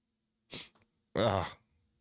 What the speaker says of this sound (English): Hold on, chat. I gotta sneeze.